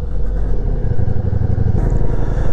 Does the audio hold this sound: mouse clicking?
no